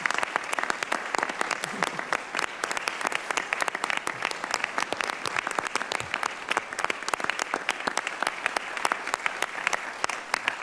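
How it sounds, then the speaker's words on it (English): An audience at a whistleblower celebration in Washington DC gives a sustained round of dense, steady applause that carries on for about ten seconds. "I'd like to see a round of applause for the spouses of the whistleblowers."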